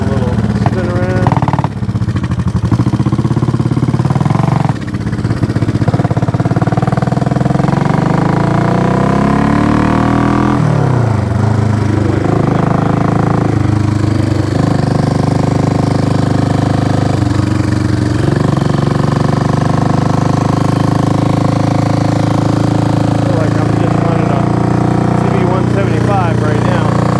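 A rebuilt Honda CB350 motorcycle, restored from a pile of parts, runs continuously up close, its engine note rising and falling through several downshifts and throttle changes, with people talking faintly underneath.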